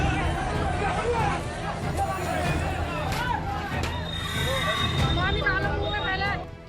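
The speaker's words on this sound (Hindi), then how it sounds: "कहीं बैंक में बेकाबू हो रही है लोगों की भीड़" A large, unruly crowd of people jostling in a bank queue, a dense, continuous babble of many overlapping voices close by, steady and loud throughout.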